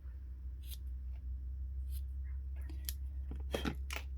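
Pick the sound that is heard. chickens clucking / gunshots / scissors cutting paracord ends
scissors cutting paracord ends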